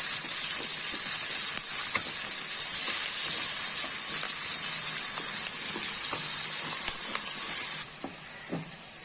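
Onions sauté in oil in a pan for a sardine curry, with salt added, producing a constant bright hiss and crackle, close and steady, with occasional light stirring clicks and no talking.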